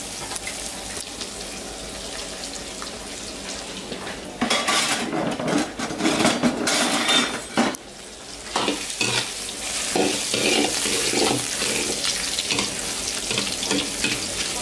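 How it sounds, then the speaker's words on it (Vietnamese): Mèn Mén corn grits being stir-fried in rendered chicken fat in a pan, with a spatula scraping and clattering against the metal over a steady sizzle, close and busy with no talk. "Sau khi rán mỡ gà xong chúng ta cho Mèn Mén vào để chúng ta đảo."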